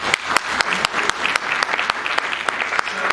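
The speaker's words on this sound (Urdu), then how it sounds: "ان کے لیے تالیاں بجائیں." A church congregation at a Sunday New Year service claps together, a dense, lively burst of applause with sharp individual claps standing out, close and fairly loud.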